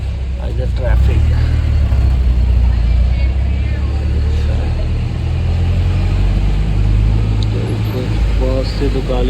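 Road traffic passing through Pratappur town on a quiet election day, with a continuous low engine rumble and passing vehicles as someone talks over it at close range.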